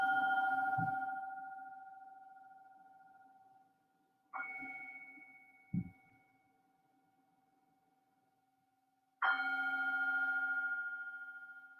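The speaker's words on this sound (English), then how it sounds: "I'm going to start the class with the ringing of this bell 3 times." A bell rings three times to open a seated yoga class: each clear, sustained tone fades slowly into near silence before the next strike, with a couple of soft knocks in between.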